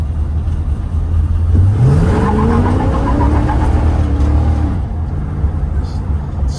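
A strong-running 1968 Cougar GT-E with a 427 side oiler big block engine rumbles loud and close, its deep idle rising into a smooth rev and then easing back down.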